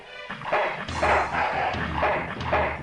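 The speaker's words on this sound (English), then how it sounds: "So it's guarded by a junkyard dog" A junkyard dog in the Full Throttle adventure game barks loudly and close, giving four or five gruff barks in a steady rhythm with no talking.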